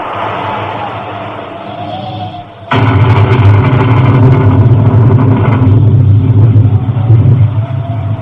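A storm at sea aboard a sailing ship: a loud, dense rumble of wind and surging water that swells suddenly after a quieter opening and roars on steadily with no talk.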